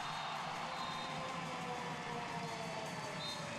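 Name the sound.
crowd cheering at women's handball match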